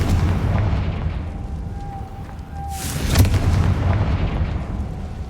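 The Confringo fire spell in Hogwarts Legacy erupts in a heavy booming blast, a sharp crack with deep rumbling over low background noise.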